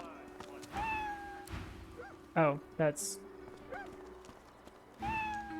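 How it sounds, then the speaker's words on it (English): Short harmonic cat meows from a cat in the game Divinity: Original Sin II, several distinct calls spread through the clip, mixed with game sounds and someone speaking over them. "Sorry, that's a cat."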